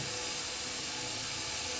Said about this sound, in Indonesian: sudah mulai ada suara mau mendidih.